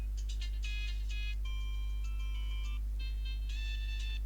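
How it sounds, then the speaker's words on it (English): Simple electronic ringtone melody from a TTFone basic mobile phone, a series of short beeping tonal phrases with brief pauses, playing quietly over a steady low hum with no talking. "So the pretty average ringtones."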